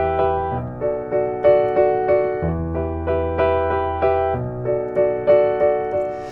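Piano in 6/8 with steady repeated eighth-note chords in the right hand over low left-hand bass notes, held by the sustain pedal into a smooth, lilting, continuous pattern.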